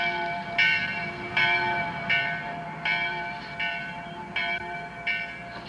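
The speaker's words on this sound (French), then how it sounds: "C'est la cloche de l'église." Church bell in a village rings in a slow, regular series of about seven distinct metallic strikes, each ringing on briefly before the next, clear and moderately near with no talk.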